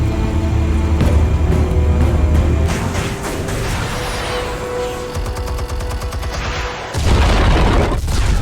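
Explosives detonating in Batman: The Telltale Series: loud, close booms and rumbling blasts with crackling debris, then a final heavy burst near the end.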